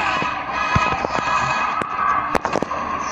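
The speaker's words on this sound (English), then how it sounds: "Shoot my bow." A bow attack in the mobile game Star Wars Galaxy of Heroes sounds as several short, sharp impact bursts over a continuous synthetic game hum, fairly loud and close, with no talking.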